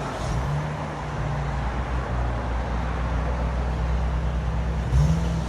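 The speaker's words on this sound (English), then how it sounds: "2016 Chrysler 300S V6. This is what it sounds like before." A 2016 Chrysler 300S V6 with a stock exhaust and resonator still fitted idles with a low, quiet, steady drone, a soft engine hum that rises slightly near the end.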